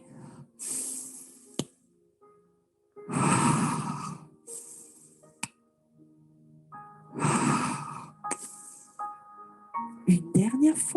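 Long, breathy exhalations from a person doing Pilates come in three drawn-out pushes separated by quiet gaps, with soft clicks and short tonal sounds in between, close and clear.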